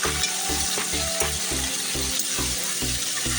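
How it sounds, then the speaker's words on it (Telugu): Dried red chillies and curry leaves fry steadily in oil in a pan for lemon rice, a continuous close sizzle broken by a regular rhythm of stirring or scraping strokes, with no talk. "కాసేపు ఫ్రై చేయనివ్వాలి."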